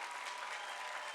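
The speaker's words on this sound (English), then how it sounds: "Let's applaud to the families, the friends, the parents" Steady, dense applause from a graduation audience honoring families, friends and parents, a continuous even wash of many hands clapping with no voices standing out.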